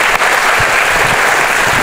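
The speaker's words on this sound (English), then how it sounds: "let's give a nice round of applause to Reena first." Dense applause from a conference audience, steady and loud throughout with no pauses, filling the room on its own with no voices over it.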